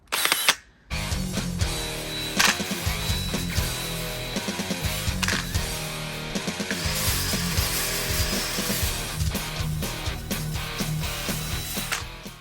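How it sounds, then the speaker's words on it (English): A stiff plastic bristle brush spinning on a power drill scrubs flaking paint from an old chair, a steady close whirring and scratching with brief stops and restarts. "I've got a stiff plastic bristle brush on a drill"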